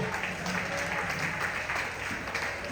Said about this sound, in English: Clap your hands for Jesus, somebody